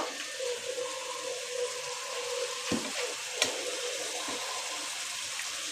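Fresh aair fish pieces go into a pan of potato curry whose oil has separated, giving a steady low sizzle and frying hiss with a couple of sharp clatters as the fish lands, no talking.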